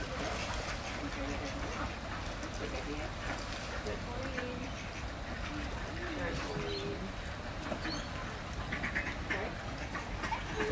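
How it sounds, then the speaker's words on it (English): Ducks quack amid a busy outdoor scene while being fed at a pond in the Edogawa Commemorative Gardens, with steady background chatter and water-side ambience throughout. "It looks like we're feeding some ducks down here."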